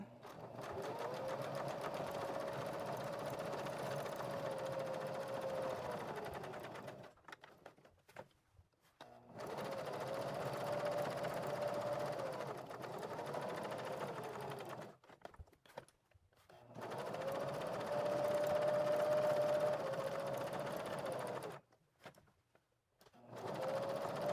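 A sewing machine stitches fabric scraps into collage fabric in three long, steady whirring runs broken by brief pauses, close and moderately quiet.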